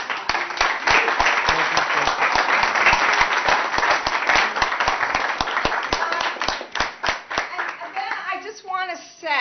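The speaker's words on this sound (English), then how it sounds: "let's give Glenn a round of applause" Applause for Glenn at a Green Party post-election party, with close, sharp individual claps over a dense crowd clapping that fades near the end as a voice begins speaking.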